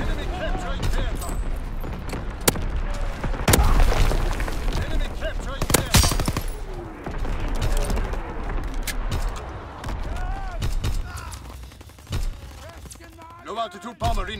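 Artillery battery explosions and heavy gunfire fill a Call of Duty WWII multiplayer battle, with sharp booms at irregular intervals over dense, continuous firing. Radio-style voice callouts run through the whole stretch.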